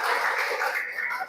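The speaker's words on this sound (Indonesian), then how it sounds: "tepuk tangan untuk Ardi, Rifki, Gabriel" Classroom applause for students, a short burst of dense clapping from a group, loud and close, fading toward the end.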